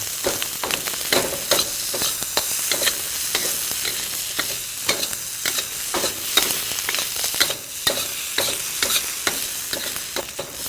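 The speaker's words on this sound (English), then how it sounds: "I like to partially cook my green peppers first in order to soften them a little" Green peppers partially cooking in a hot pan for an Indian entrée, frying steadily throughout with a continuous close sizzle broken by repeated sharp scraping stirs.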